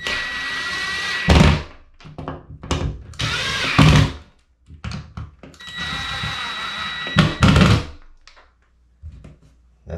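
A power tool whirs in short bursts while tightening down a fixture during a small bathroom remodel, with several separate spins of a second or so broken by quiet gaps and a few clunks.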